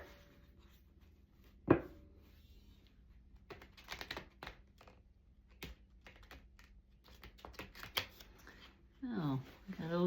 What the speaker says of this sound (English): I think this could be shuffled pretty good